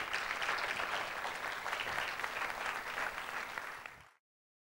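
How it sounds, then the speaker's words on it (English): Audience applause at a LIFE 2014 conference event, a dense, steady wash of many hands clapping from a large crowd, sustained for about four seconds before cutting off abruptly. "let's give a big round of applause to them."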